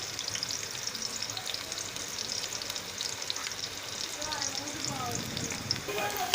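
A soft, steady sizzle of onions frying in oil, with faint stirring noises and a small clink at the end.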